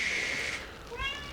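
A cat meows at a door, a short clear cry at the start and then a second, higher call after a brief pause, fairly close and alone.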